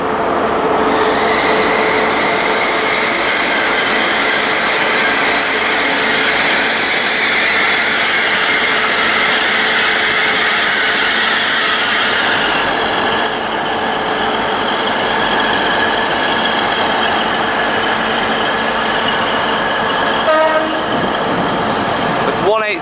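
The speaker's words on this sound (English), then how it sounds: "Now arriving in is a Class 180 Adelante bound for London Paddington." A Class 180 Adelante diesel train bound for London Paddington arrives at Reading station, a loud, sustained engine drone and rail rumble that fills the platform for over twenty seconds.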